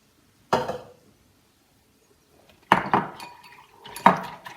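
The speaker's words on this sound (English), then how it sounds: "I first mix the water with the yeast" A spoon stirs yeast into lukewarm water in a bowl for bread dough, giving three separate close bursts of clinking and scraping with silent gaps between them.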